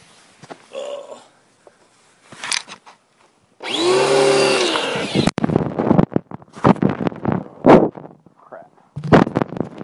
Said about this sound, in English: sump clean with the snap-on pressure washer